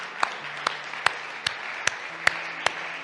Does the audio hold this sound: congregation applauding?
yes